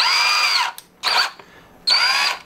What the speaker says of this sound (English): So obviously first we have to drill.